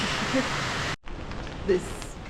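Steady rain falls during the rainy season in Dharamkot, Himachal Pradesh, a dense hiss broken by a brief silent cut before the downpour resumes.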